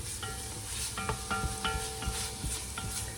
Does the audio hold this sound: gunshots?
no